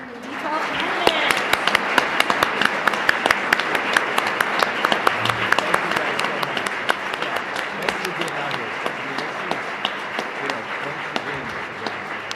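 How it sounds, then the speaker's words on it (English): A crowd at a school district candidate forum in a high school setting claps for the District 12 board candidates, a sustained, even round of applause with sharp individual claps standing out throughout. "Can we get a round of applause for your D12 candidates?"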